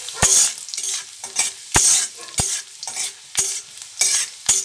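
Chopped ginger and garlic frying in hot oil for thukpa soupy noodles, bursts of loud bright sizzling stirred in rhythmic sweeps, with sharp spatula taps on the pan about every half second, close and without talk.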